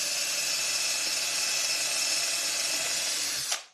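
Power drill boring a hole through a vintage aluminum Christmas light cover, a steady high-pitched whine held loud and unbroken for over three seconds before cutting off abruptly.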